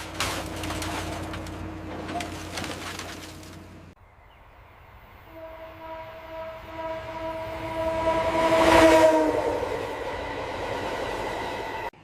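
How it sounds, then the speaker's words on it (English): A sleek train moving along railway tracks, with a low rumble at first, then a sustained horn-like tone swelling to a loud peak and lingering as the train passes. "A sleek train speeds forward."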